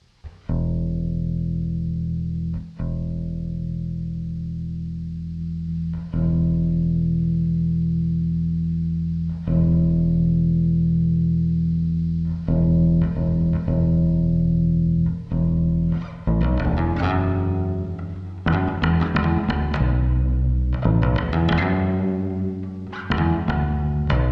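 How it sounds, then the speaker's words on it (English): A bass guitar played through a Line 6 POD HD500x with reverb rings out in sustained notes that decay smoothly, first as spaced single notes and then as a busier, faster run of notes toward the end, with no talking. "let's just try some reverb"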